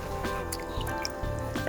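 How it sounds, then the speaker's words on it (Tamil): Water is poured little by little into rice flour dough for coconut milk murukku while it is kneaded by hand, giving wet squishes and small drips close up over a steady low tonal hum. "அதனால் கொஞ்சம் கொஞ்சமாக ஊற்றியே பிசைஞ்சிக்குங்க."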